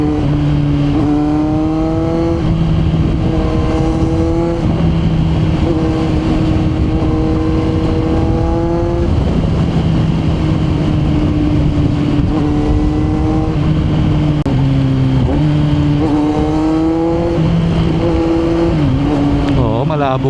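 A Kawasaki Z900 motorcycle cruises on an expressway, its engine droning steadily with rising and falling pitch through gear changes, under constant wind roar while a rider talks over it.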